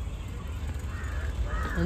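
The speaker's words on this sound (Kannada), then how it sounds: "ಬರೀ ಬರ್ಡ್ ಸೌಂಡ್ ಎಲ್ಲ" Faint crow caws sound in the distance over a low, steady background hum in Cubbon Park, Bengaluru, with no talking.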